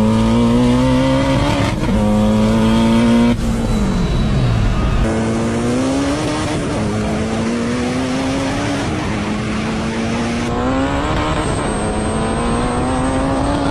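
A C8 Corvette launching down a drag strip, its engine roaring loud and close, pitch climbing through several quick gear changes in a continuous high-revving run.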